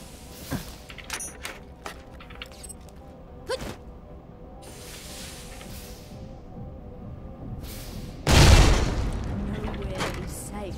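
In Borderlands: The Pre-Sequel, a single loud explosion booms past the midpoint and follows scattered game effects and faint gunfire, while a voice talks quietly.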